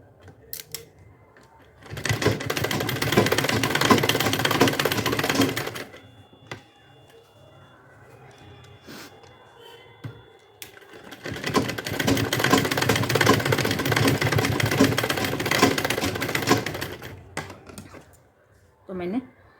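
A sewing machine stitches fabric for a purse, running in two long close bursts of rapid mechanical chatter separated by a quieter pause, with a brief stop at the end.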